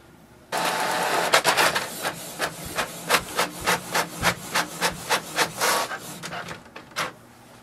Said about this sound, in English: Here we can see it has printed the Windows printer test page.